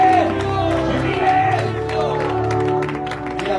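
Church congregation cheers and applauds at a lively service, a dense crowd wash of clapping and shouts running steadily throughout with voices mixed in.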